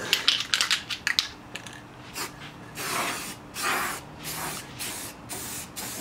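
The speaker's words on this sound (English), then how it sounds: "I think I'll just keep clear coating it, and then it'll get more even" Aerosol clear coat sprayed onto a Nissan G37 car headlight: a few quick clicks and crinkles, then several close hissing spray bursts separated by short pauses.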